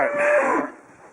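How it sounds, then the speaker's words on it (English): One cow gives a single close, loud moo lasting under a second while cows and calves are being sorted and moved, with the lowing trailing off into quiet. "Cutting out 2 calves from 11 cows."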